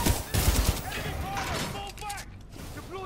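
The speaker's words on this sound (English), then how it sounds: "Enemy fire! Fall back!" Rapid bursts of gunfire from a Titanfall 2 match rattle in a dense, noisy mix, loudest in the first half and thinning toward the end, with game voices and effects layered over the shooting.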